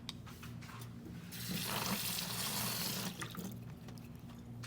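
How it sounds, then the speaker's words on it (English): A spoon is rinsed under a running kitchen tap, with water gushing loudly for about two seconds mid-clip over a steady low hum and quieter trickling before and after. "So I'm going to rinse this spoon."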